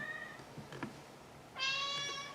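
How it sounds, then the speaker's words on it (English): A cat meows indoors, a couple of short, faint calls followed by a louder, sustained meow close by, with no talking over it. "Oh, the cat's here."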